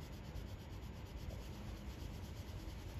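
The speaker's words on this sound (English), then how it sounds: "I can take the eraser and I can kind of clean up the edges this way," An eraser rubs back and forth on drawing paper while cleaning up pencil shading edges, making a soft, steady scrubbing rasp, close and continuous for a few seconds with no talking.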